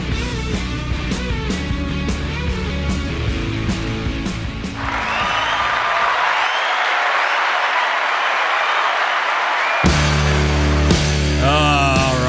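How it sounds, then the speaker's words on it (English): A burst of applause and clapping rises mid-clip, sustained for several seconds between musical passages. "We've got the applause"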